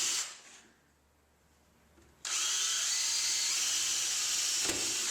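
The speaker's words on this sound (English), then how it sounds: "I've gone around the entire perimeter of the crate drilling holes right in the side here" A power drill boring holes in a plastic crate whirs briefly, stops for a moment, then runs again in a sustained high-pitched whine close by.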